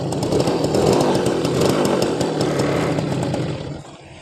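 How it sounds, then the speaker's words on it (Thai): A Suzuki RC100 100cc two-stroke, four-speed motorcycle engine idles close by with a loud, buzzy, steady rattle that drops away near the end. "เป็น เครื่องรุ่นเครื่องยนต์100ซีซีนะฮะสี่เกียร์สองจังหวะ รุ่นหายากอีกตัวหนึ่งนะฮะสำหรับซูซูกิ"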